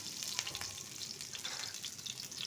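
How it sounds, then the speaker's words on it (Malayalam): Onions frying in hot oil in a home kitchen give a soft, steady sizzle with faint crackles and stirring, quiet and without speech. "എണ്ണ നല്ല ചൂടായി അപ്പോൾ ഞാൻ പൊരിക്കാനായിട്ട് കുറച്ച് ഉള്ളി ഇട്ട് കൊടുത്ത്"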